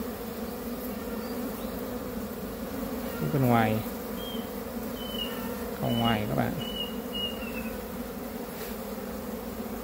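Honeybees drone steadily on a hive frame, a dense continuous buzz close by, with a Vietnamese-speaking voice talking briefly twice over the humming.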